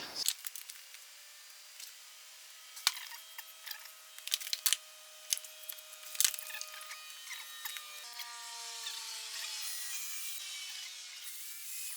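Screws go into wood pieces for a camper van kitchen frame: scattered woody clicks and knocks, then a steady whirring of a driver toward the end, close and fairly quiet.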